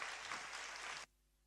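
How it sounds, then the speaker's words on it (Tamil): Church congregation applauding loudly during a Sunday service, a dense steady burst of clapping that cuts off abruptly after about a second, leaving quiet room tone. "நல்ல ஒரு பெரிய கரகோஷம் கொடுக்கலாமே"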